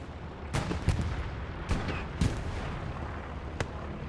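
Artillery shells in Hell Let Loose, a World War II shooter, land in a handful of sharp booms scattered over a dull rumbling battlefield, with several reports fairly close and others more distant, and no talk.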